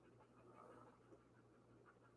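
A dog pants indoors, a faint, steady run of quick breaths close by, ending in a sudden loud thump.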